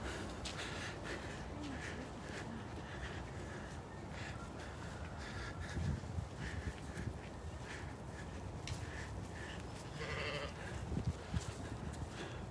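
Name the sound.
sheep bleating on a farm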